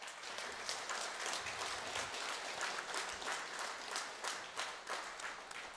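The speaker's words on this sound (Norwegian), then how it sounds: "Gi henne en skikkelig applaus." An audience at a Saturday song meeting claps for a woman being honoured, a steady, moderately quiet wash of applause running throughout without talk.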